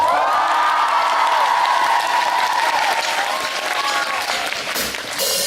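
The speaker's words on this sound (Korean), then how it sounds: "죄송한데 우리 녹음이 연결이 돼서 환호 다시 한번 주시겠어요?" Concert audience at a live show cheers and applauds loudly and continuously, with whoops and shouts rising over dense clapping before tapering slightly near the end.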